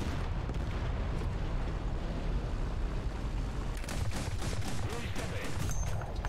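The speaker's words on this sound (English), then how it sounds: "We're a little bit closer to whatever's machine gunning up this way." Machine gun fire and rumbling explosions from the War Thunder combat game, featuring the AS 42 vehicle, form a dense, continuous barrage at moderate distance, growing sharper and choppier near the end.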